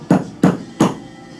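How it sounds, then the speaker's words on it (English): Three sharp hammer blows drive pins into a gun, evenly spaced and close, each a crisp knock with a short ringing decay, no talking. "So I'm going to hammer these in the rest of the way."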